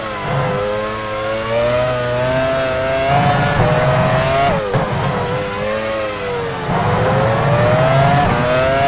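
A Formula 1 car in F1 Challenge 99-02 at the 2001 US Grand Prix at Indianapolis drives into the pit lane, its loud, close, high-pitched engine note rising and dropping through repeated gear shifts, with no voices present.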